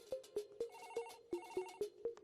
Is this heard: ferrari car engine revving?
no